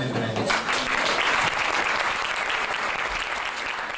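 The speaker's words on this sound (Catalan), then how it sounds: "Un aplaudiment per ells." A concert audience claps for two musicians about to play duets, a full, even burst of applause close by with some voices underneath, holding steady before easing slightly.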